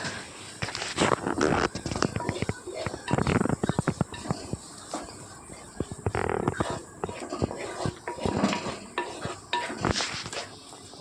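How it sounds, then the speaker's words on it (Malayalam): Soaked masala and spice powders sautéed with onions in a pan for a Kochi-style vinegar meat dish, heard as busy scraping and clattering of a spoon against the pan over a soft sizzle, close up. "നമുക്കിനി ഇതിലേക്ക് കുതിർത്ത് വെച്ചിരിക്കുന്ന ആ മസാലയും പൊടികളൊക്കെ ചേർത്ത് നന്നായിട്ട് മൂപ്പിച്ചെടുക്കാം"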